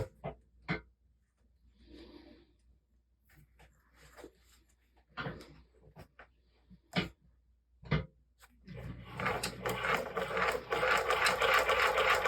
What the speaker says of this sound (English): As I'm sewing, I'm making adjustments to basically the tensions of each side